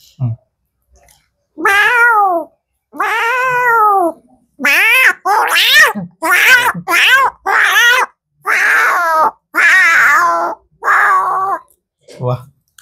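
A person imitates cats fighting: a series of loud, drawn-out yowls and snarling meows in quick back-and-forth bursts, close and alone.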